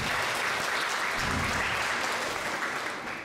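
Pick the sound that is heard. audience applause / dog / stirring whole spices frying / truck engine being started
audience applause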